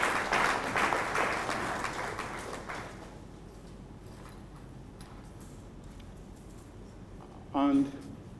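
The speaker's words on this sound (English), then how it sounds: "help me give a sounding ovation and a round of applause to R4D for the support of this year's symposium" Audience applause at an annual symposium, a dense round of many hands clapping for about three seconds that fades into scattered claps and room murmur, followed by a short burst of speech.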